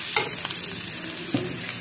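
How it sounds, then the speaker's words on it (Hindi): Mashed potato filling stirred in a pan for aloo bread pakoda, giving a soft, steady scraping sizzle with two brief louder spoon knocks, close and alone. "और अच्छे से चलाना है, इसे मिला लेंगे।"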